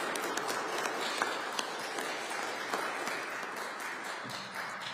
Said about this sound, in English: please give a round of applause to Congressman Louis Gohmert